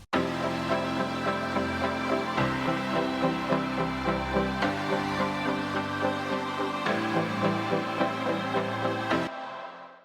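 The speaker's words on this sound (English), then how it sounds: "And then all those synths together sounds like this." Layered 1980s-style synthesizers play sustained chords together over a steady pulsing pattern in a pop production, full and continuous with periodic chord changes, ending abruptly with a short decay and no voices.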